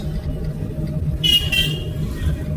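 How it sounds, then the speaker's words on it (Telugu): Car horn sounding briefly amid road traffic, a short tone rising above a low engine and traffic rumble from inside a moving car. "హార్న్ వాడండి"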